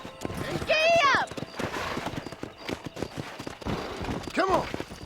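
Horse hooves clip-clopping in the Red Dead Redemption Wild West game, with a loud whinny near the start and another at the end, running under ongoing game sounds.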